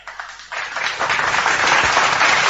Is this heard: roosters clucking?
no